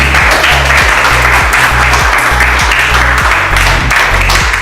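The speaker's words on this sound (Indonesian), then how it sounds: "Tepuk tangan dulu untuk kalian semua" Loud, dense crowd applause at the 2019 Aceh Tenggara tourism ambassador pageant fills the whole stretch, steady and close without pause, with a low rhythmic thump from music beneath it.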